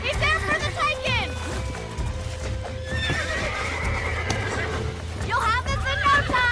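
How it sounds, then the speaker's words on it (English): Whinnying and neighing from a bucking horse being broken in Red Dead Redemption, with repeated loud squeals over clip-clopping hooves and game voices talking throughout. "Don't let him buck you, Mr. Marston!"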